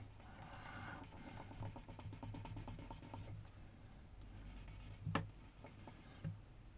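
Mechanical pencil graphite scratching steadily across paper during a realtime portrait drawing, a continuous close rasp with a few sharper strokes near the end, no talking.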